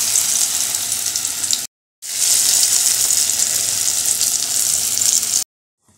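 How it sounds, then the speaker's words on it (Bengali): Ol bora, elephant foot yam fritters, frying in hot oil with a loud, steady hiss and crackle that cuts out briefly near the middle, then resumes at full strength before stopping near the end. "ভাজতে বসেও গেছি।"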